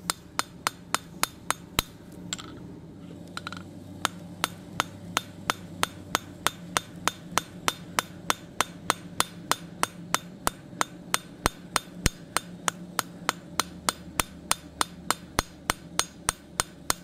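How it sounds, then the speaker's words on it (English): Steady, evenly spaced hammer blows ring out on an anvil as a steel flower petal for a hook is forged and spread, dozens of sharp metallic strikes close by with no talking. "I'm gonna be using slightly overlapping hammer blows to do so and to spread out this petal nice"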